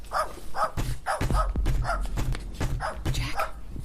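A dog barks repeatedly in a steady rhythm of sharp, fairly close woofs, with a few whimpery yips between them.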